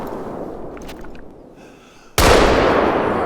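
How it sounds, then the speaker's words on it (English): A hunting rifle fires one loud, sharp shot at an animal in theHunter: Call of the Wild, cutting through quiet outdoor ambience and trailing off in a sustained echoing decay. "I want to try and shoot this. A bit of a risky shot."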